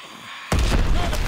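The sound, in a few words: grenade explosion, from video game Call of Duty WWII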